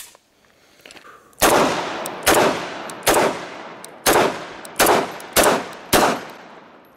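A Colt 1911 Series 80 pistol in .45 ACP fires eight loud, sharp shots in quick succession, each a booming crack with a short echoing tail, spaced under a second apart.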